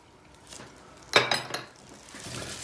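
Chicken liver with spices being stirred in a pan, faint and quiet at first, then a brief cluster of metallic scrapes and clinks from a utensil against the pan before it settles back to near quiet.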